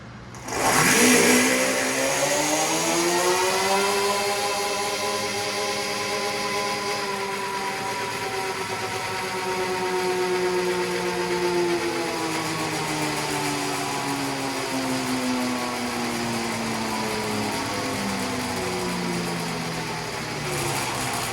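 An Apollo RFN electric dirt bike with knobby tires runs on a dyno, its motor rising into a loud, steady electric whine with gliding tonal harmonics that sweep up and settle, sustained for about twenty seconds with no talking.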